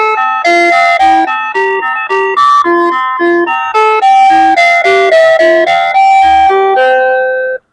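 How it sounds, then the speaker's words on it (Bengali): An AC/DC electric calling bell switched to a different ringtone plays another loud, rapid electronic chime melody lasting around seven seconds before ending suddenly. "আপনার ইচ্ছে মতো আপনি সাউন্ড গুলা চেঞ্জ করে চয়েস করে করে এই কলিং বেল গুলা ব্যবহার করতে পারেন"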